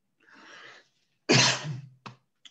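A few coughs: a faint breathy one, then a loud harsh cough trailing off, followed by a short sharp cough and a tiny final burst.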